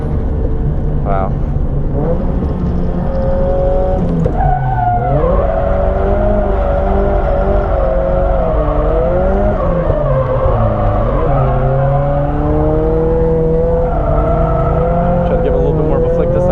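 A car drifting with a loud, sustained engine drone that rises and dips as the throttle is worked, tires squealing through long slides, heard close and continuous with a voice talking over it.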